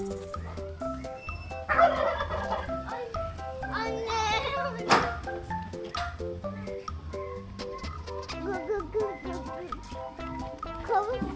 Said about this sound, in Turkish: Yok bu hindi. Bu hindi. Evet hindi bu. Bak sana cevap verdi.